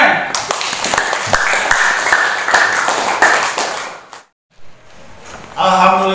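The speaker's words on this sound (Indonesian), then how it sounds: "Makasih, tepuk tangan." A classroom of students claps hands after a group presentation, a burst of scattered claps and knocks lasting about four seconds, then a brief silence before a voice starts speaking.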